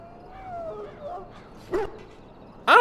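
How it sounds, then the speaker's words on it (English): A Mabari war dog in Dragon Age: Origins whines and whimpers in a few rising, wavering cries, ending in a sharper yelp, with a voice speaking around it. "This is a Mabari, smart breed and strong."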